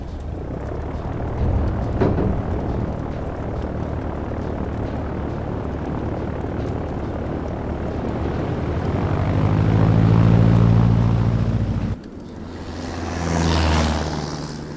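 Propeller airplane in the video game Pound of Ground taking off, a steady droning engine that swells louder toward the end, cuts briefly, then returns with a rising roar.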